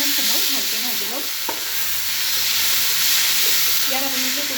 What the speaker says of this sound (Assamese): আলুখিনি কোমলালৈকে আৰু 3 মিনিটমান সময় ভালকৈ ভাজি ল'ম